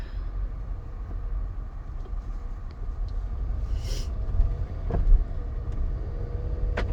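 A 2020 Ford Edge with the 2.0 EcoBoost engine is driven along, a steady low rumble of engine and road noise heard from inside the cabin, with occasional faint clicks and rattles.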